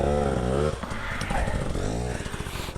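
A TBI 24 hard enduro motorcycle revs hard nearby on a test ride, its rising engine whine climbing and dropping in pitch, with rougher rumbling in between.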